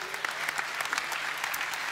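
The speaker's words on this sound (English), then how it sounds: "A big round of applause to the 21 mentors once again." A crowd applauds mentors at a young chef competition awards event, with dense, lively clapping that holds steady and close for the whole short stretch.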